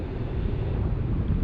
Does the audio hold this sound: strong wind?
yes